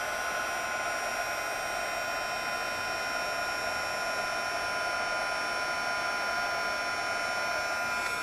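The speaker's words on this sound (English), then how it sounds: "And then I'm going to grab my heat tool and I'm going to emboss this." A heat tool blowing hot air to melt embossing powder on a Christmas tree card, a constant loud whirring blower hum with a steady high whine, unbroken for the whole stretch.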